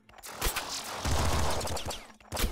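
Quadruple machine gun firing in Nuclear Throne, a dense burst of rapid gunfire that rolls for about two seconds, drops briefly, then bursts again at the end, loud and close in the game mix.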